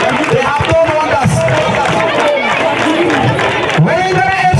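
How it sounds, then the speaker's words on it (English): Clapping and cheering from a crowd at a Brikama women's football final for the Wellingara FC team, with scattered applause under a busy hubbub of voices and a person talking over it. "Can we clap for them, please?"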